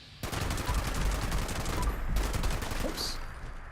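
Fireworks go off in Fallout 76 as a dense, continuous run of crackling pops and booms. The bursts are loud and steady, ease briefly near the middle and then pick up again, and a faint voice sits underneath.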